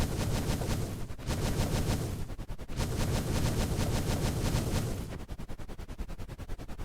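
Rapid bursts of automatic helicopter gunfire in a combat video game mod, loud and dense, with brief pauses between sustained volleys and a sharper, choppier burst near the end.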